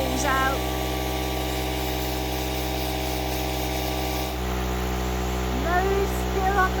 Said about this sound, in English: I've got the compressor plugged into the EcoFlow. And Ian's down there blowing his holes out.